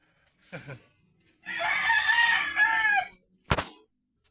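A gamecock crows once loudly in a long drawn-out call, with a short clucking note before it and a sharp knock right after; no voices.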